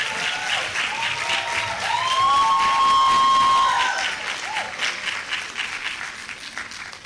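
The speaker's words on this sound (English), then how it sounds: "Can we have another round of applause for Her Excellency?" Sustained audience applause at a leadership forum, a dense wash of clapping from a large crowd that swells and holds for several seconds, with a few tonal whistles or cheers rising briefly above it.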